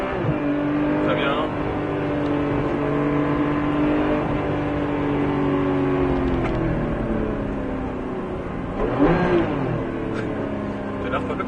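A Porsche 991 GT3 on the Circuit de Bresse track sustains a loud engine drone that climbs and settles through a corner, with a rising rev burst near the end. An instructor talks over it.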